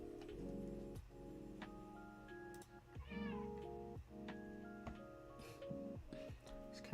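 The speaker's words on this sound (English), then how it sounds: "This cat is doing the most." A house cat meows repeatedly and loudly close by, several drawn-out tonal cries with rising and falling pitch, against a quiet indoor background with no talking.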